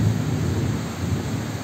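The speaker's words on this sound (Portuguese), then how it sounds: "Ó, tô trovejando muito." Thunder rumbling during heavy rain in Petrópolis, Rio de Janeiro, a low, continuous roll under dense steady rainfall, loud and enveloping, with no voices.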